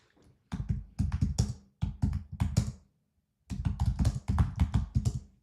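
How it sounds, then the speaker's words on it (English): Computer keyboard typing in bursts of rapid, crisp key clicks, close and fairly loud, broken by short silent pauses between clusters of keystrokes. "Sorry about the clicking, guys. I know some of you get really pissed about that."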